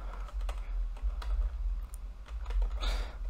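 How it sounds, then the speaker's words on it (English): Fast typing on a computer keyboard, a brisk run of close, crisp key clicks over a low background hum, with no speech. "or we could just simply type."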